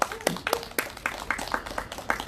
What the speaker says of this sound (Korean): 정말 좀 색다른 정세 판단해 주신 우리 도한영님께 큰 박수 부탁드리겠습니다